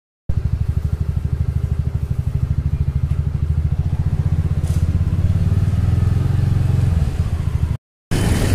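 A motorcycle engine runs close by as the bike heads out, a loud, steady, chugging throb with a rapid pulsing beat that holds for several seconds before cutting briefly near the end.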